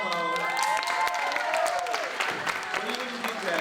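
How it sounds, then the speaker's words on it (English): An audience applauds and cheers an alumna of an arts magnet school at a closing-night performance of The Lightning Thief, with steady clapping and crowd noise throughout while a voice talks over it. "Okay, so clap for Damo."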